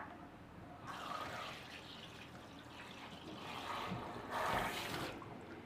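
Squid being washed under running water: a faint, steady splash and trickle of tap water with a louder gush near the end, no talk.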